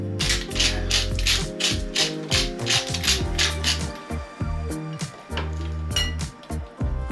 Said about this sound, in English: all I'm going to do is stick black pepper